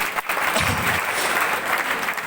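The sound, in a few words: loud applause from seminar audience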